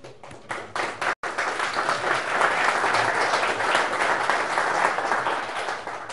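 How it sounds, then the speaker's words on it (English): An audience at a conference closing auction breaks into applause, dense clapping from many hands that starts after a brief gap and swells to a sustained, loud round. "Thanks for the applause, but we're not done bidding yet."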